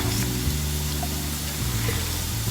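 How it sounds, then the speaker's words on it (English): Stock being stirred into chicken feet in a cooking pot, a steady close wet swishing and bubbling rumble that runs continuously without speech. "Then I'm going to stir."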